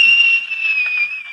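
A sustained, steady whistle holds one clear high tone with a faint overtone above it for over a second, loud and close, in a 1939 Soviet film scene with workmen hauling on a riverboat.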